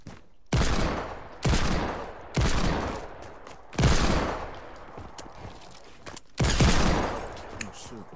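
Hand cannon fired in a video game, five heavy booming shots spaced roughly a second or two apart, each with a long rumbling tail, loud and close.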